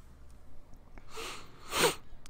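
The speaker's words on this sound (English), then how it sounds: "excuse my sniffles" Sharp nasal sniffles, two quick breathy bursts with the second louder and near, between pauses in a speaker's talk, with no voice over them.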